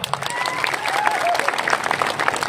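Applause at a public interfaith gathering in Mysore, a dense crowd clapping under a speaker's voice that carries on throughout.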